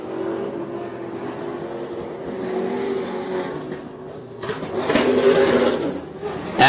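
An off-road race truck engine sputters and drones steadily at a Lucas Oil Off Road regional round at Wildhorse Pass, Arizona, swelling louder near the end as the truck comes across the finish line, with crowd and track noise around it.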